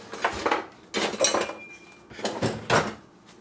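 Dishes and cutlery clatter in a home kitchen during General Tso chicken cooking, with several loud bursts of clinking and scraping as containers are shifted about, no voices.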